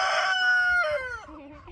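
Young Easter Egger chickens, about two months old, on a homestead give a loud, close series of drawn-out, wavering calls that glide downward, heard alone without talk.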